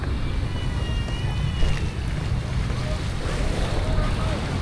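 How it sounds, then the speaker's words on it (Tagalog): Waves wash against a seawall along a park promenade by Manila Bay, a steady broadband rush of surf mixed with wind buffeting the microphone throughout, with faint distant voices underneath. "Yung dagat pala dito mga amigo,"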